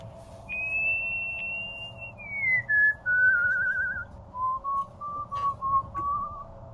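A single person whistles a slow, wavering tune, imitating a father's distinctive whistle during a horror tabletop role-playing game. The notes glide downward in long held phrases, then break into short separate tones, close and fairly soft over a low hum.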